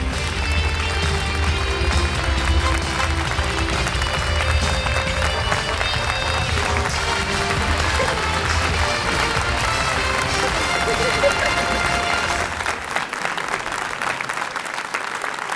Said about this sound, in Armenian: ծափերով դիմավորենք